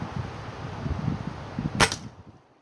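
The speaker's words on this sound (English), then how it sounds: "Now let's try the Crosman Premier Destroyers." A Chinese B2 break-barrel air rifle with a fully rifled barrel fires a Crosman Premier Destroyer pellet, giving one sharp, close crack over faint background noise, then quiet.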